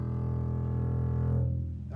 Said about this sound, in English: The lowest note in the orchestra sounds like this.